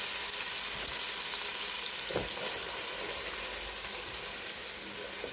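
Carrots frying in a pot as the base for a brown stewed lamb, giving a steady, close sizzle with a brief scrape of stirring midway and no talk over it.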